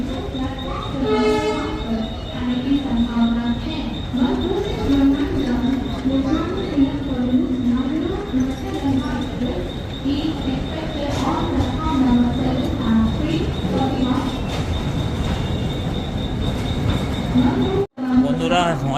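A train pulls into a busy railway station platform, with a loud continuous rumble of wheels and carriages, a long sustained horn or whistle tone, and surrounding station noise and voices, ending abruptly.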